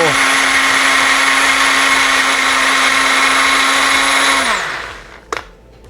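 A Ninja blender whirs loudly, blending marinade ingredients for pork with a steady high motor whine that winds down near the end, followed by a short clatter.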